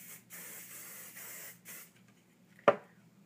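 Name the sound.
hairspray being sprayed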